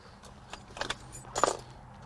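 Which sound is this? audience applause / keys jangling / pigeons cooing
keys jangling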